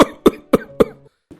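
Four sharp coughs in quick succession, then a fainter fifth after a short pause, close and loud.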